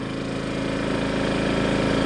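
A Honda generator charging a 48v LiFePO4 battery bank runs under load, its engine droning at a steady, loud, even pitch from close by, with no other sounds.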